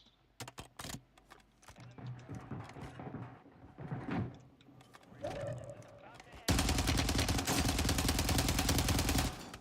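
Video game gunfire in a multiplayer shooter, sharp shots and bursts mixed with clicking and mechanical handling noises, then a loud sustained stretch of rapid fire closing the moment, with a voice heard faintly.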